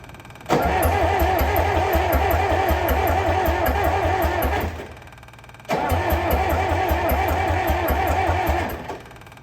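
An old John Deere 2010 track loader engine, sitting over 20 years, cranks and catches into a loud, steady chugging run, cuts out briefly around the middle, then starts again and runs before dropping off near the end.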